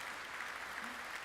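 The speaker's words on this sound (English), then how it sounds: "I think we can give him a bit of a round of applause to Gasper." An audience applauds a man named Gasper and his team at a design talk, a steady dense round of clapping that fills the short moment without pause.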